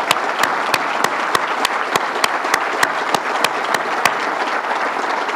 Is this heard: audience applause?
yes